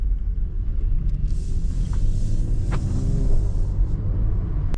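Mercedes GT43 AMG engine idling with a deep, steady low rumble, close and continuous, with a faint hiss rising briefly over it.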